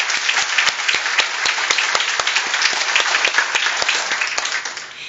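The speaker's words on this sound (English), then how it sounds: "let's give all of our Lesson Plan Award winners and mini grant winners a round of applause" A room full of people at an awards ceremony applauds, steady dense clapping at moderate volume that carries on and tapers slightly at the end.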